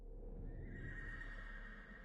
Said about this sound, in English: I hear a horse somewhere.